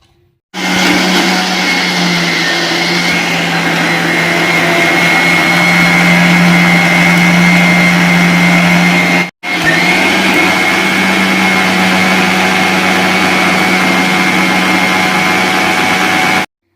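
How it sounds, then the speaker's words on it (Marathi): A blender whirs loudly and steadily for several seconds making pineapple milkshake with milk and ice, stops for a moment, then starts again with the same continuous grinding roar. "आता याचे मिक्सरमध्ये ज्यूस करून घेऊया."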